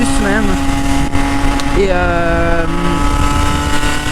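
Old 2013 Derby motorcycle engine running while riding, a steady close drone with rising and falling tones as the revs change, with a voice talking over it.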